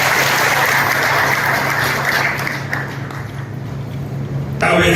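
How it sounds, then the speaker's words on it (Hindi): Loud, sustained clapping from a seated audience in a hall at a village gathering, dense and steady throughout before fading slightly, with a voice briefly audible near the end. "एक बार जोरदार ताली आवाज करना है माता के लिए।"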